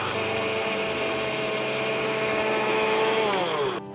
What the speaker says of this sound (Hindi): इसको हम ग्राइंड करने वाले हैं हमारे हैवेल्स प्रीमियम मिक्सर ग्राइंडर में।